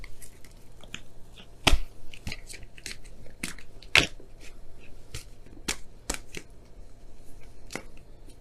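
A deck of oracle cards is shuffled close by in quiet surroundings, heard as a series of crisp riffles and slaps, with two sharper snaps standing out among the softer rustles.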